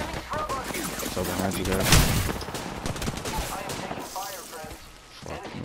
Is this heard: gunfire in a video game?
yes